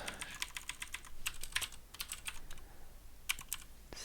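Rapid typing on a computer keyboard, a steady patter of close, crisp key clicks in uneven bursts with brief pauses, no voices.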